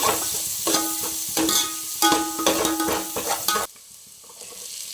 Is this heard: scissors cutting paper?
no